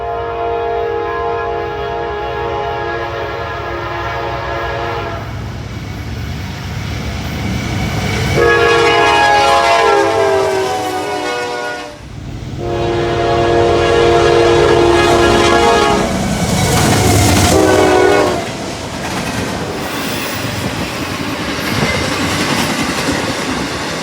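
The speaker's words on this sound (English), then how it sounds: "The second train we caught was a Norfolk Southern intermodal with an AC-44 leading and a GEVO trailing. Again, it was flying." A Norfolk Southern intermodal freight train, an AC-44 locomotive leading and a GEVO trailing, passes at speed: loud, steady engine roar and wheel rumble with horn blasts, the noise swelling and dipping as the cars rush by close at hand.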